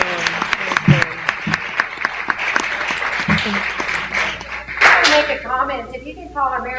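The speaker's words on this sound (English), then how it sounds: "Let's give them a round of applause for being here." A small audience at a panel discussion gives a sparse round of distinct, separate claps that thins out before someone begins talking.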